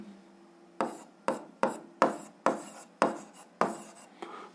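Handwriting on paper, a series of about eight short scratchy pen strokes at an even, steady rhythm, close and fairly quiet, each stroke fading quickly.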